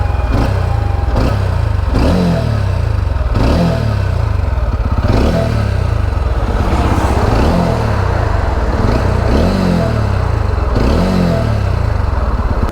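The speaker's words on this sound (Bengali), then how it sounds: "তা চলো চট করে একটু এক্সস্ট নোটটা আমরা শুনে নিই।" A TVS Ronin 225 BS6 motorcycle idles close by with a loud, steady exhaust note, broken every second or so by short throttle blips that rise and fall in a regular rhythm throughout.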